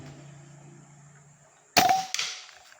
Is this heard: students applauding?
no